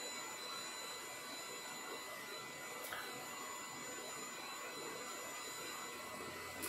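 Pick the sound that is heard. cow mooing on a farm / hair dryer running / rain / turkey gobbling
hair dryer running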